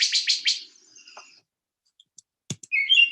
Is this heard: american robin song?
yes